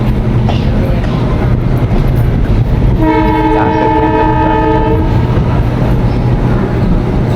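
A passenger train pulling away, its steady, loud rolling rumble filling the whole stretch, with a single sustained horn blast of about two seconds sounding partway through, close and clear over the clatter.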